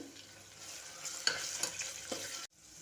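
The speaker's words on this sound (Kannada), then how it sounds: "ಈರುಳ್ಳಿ ಎಲ್ಲ ಎಣ್ಣೆಯಲ್ಲಿ ಫ್ರೈ ಆಗ್ತಾಯಿದೆ." Onions fry in oil with green chillies and ginger-garlic paste for rice khichdi, a bright steady sizzle broken by a few spoon-stirring scrapes before cutting off abruptly near the end.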